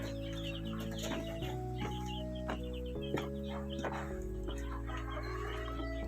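Chickens cluck and call close by in a backyard, a run of short, overlapping clucks and low murmurs with a steady hum running underneath.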